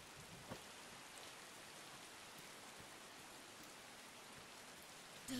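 Steady rain in the video game Sifu, a dense even hiss of falling drops with no breaks, moderately loud and unaccompanied by voices.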